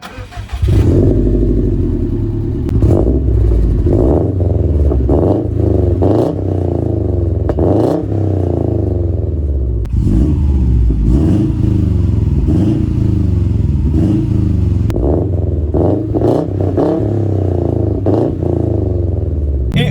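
A Subaru Impreza WRX STI engine revs hard several times from idle, deep and loud, with throaty rises and falls, close by and without talk.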